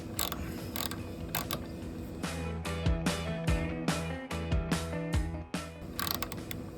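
Quick bursts of ratchet clicks come close and fairly quiet as a hand ratchet snugs the mud flap screws on a 2023 Tesla Model 3, in uneven strokes with short pauses.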